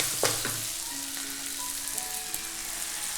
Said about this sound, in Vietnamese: Bắt đầu mình xào lên cho lòng mình cho thấm, vừa thấm mà vừa chín đều ha.